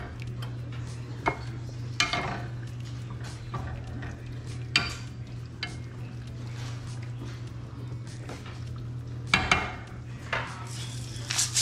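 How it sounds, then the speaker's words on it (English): Food stirred in a pot during seafood cooking, with a spoon scraping and clinking against the pot in irregular strokes over a steady low hum, close and fairly quiet. "Keep on stirring it."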